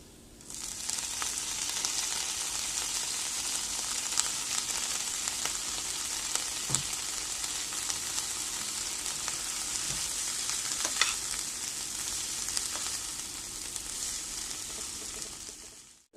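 Coriander leaves frying in a pan with onion and green chilli for a Bangladeshi coriander bhorta, giving a steady, close hiss of sizzling oil with a few soft stirring clicks throughout, and no talking.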